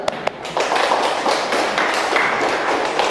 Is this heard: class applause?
yes